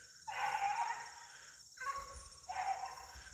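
Three drawn-out beagle bays ring out in bursts with short gaps between, fairly loud and slightly distant, from a pack chasing a rabbit, with no talking.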